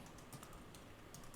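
Typing on a computer keyboard during a coworking session, heard as a quiet, steady run of soft key clicks close to the microphone, with no talking.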